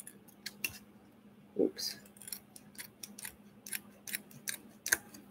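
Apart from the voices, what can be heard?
scissors trimming paper for a shaker card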